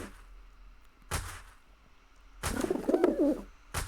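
Pigeon-like cooing bird call from a scout bird unit in a Great War age strategy game, a short burst of coos rising in the middle, with brief sharp clicks before and after.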